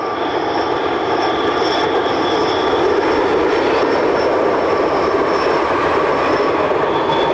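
A train on the Gotthard line in Switzerland rumbles steadily near the Ticino river, giving a loud, continuous roar with a faint high whine and no talk.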